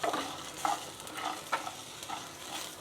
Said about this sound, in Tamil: இது கொஞ்சம் அப்படியே லேசாக வறுபடட்டும்